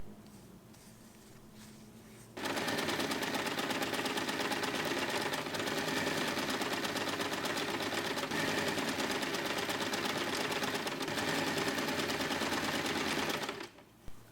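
A sewing machine stitches lining fabric for a storage basket, running steadily and loud for about eleven seconds after a quiet start, then stopping.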